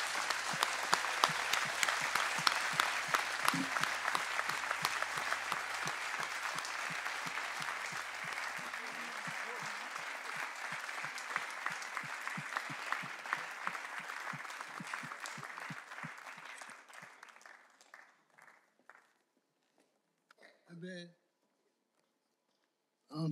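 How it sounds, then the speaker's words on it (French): Thunderous audience applause at an evening awards ceremony, the 2012 Elwa d'Or, sustained and dense for about seventeen seconds before thinning to scattered claps and fading out. "Et un tonnerre d'applaudissements ne serait pas de trop."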